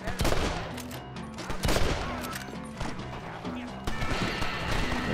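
Gunfire in the Red Dead Redemption video game: a rapid fusillade of loud rifle and pistol shots in bursts, mixed with game music and horse hooves, with a player talking over it.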